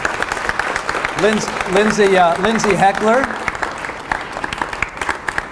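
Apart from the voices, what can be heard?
audience applause for law students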